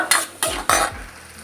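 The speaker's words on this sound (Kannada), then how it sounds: "ಈಗ ಈರುಳ್ಳಿಯನ್ನು ಹಾಕೊಂಡು ಫ್ರೈ ಮಾಡಬೇಕು ಸ್ವಲ್ಪ ಸ್ವಲ್ಪ ಬ್ರೌನ್ ಕಲರ್ ಆಗೋವರೆಗೂ ಈರುಳ್ಳಿನ ಫ್ರೈ ಮಾಡ್ಕೊಬೇಕು" Onions frying in a pan for a homemade country chicken curry, with three quick scraping stirs of a spatula over a soft sizzle that fades between strokes. No one speaks.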